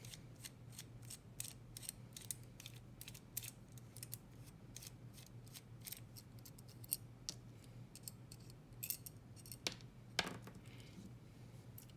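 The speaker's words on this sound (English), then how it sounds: "So I'm going to take my T15 and begin unscrewing." Small sharp metallic clicks and ticks from a T15 driver unscrewing the handle screws of a balisong knife, irregular and close but faint, with a brief louder clack near the end.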